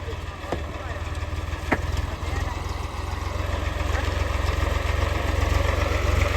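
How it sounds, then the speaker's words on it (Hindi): Tractor engine idling on a farm field at garlic planting time, a steady low rumble running throughout at moderate distance with no one speaking. "और भाई भी आ गए हैं ट्रैक्टर लेके"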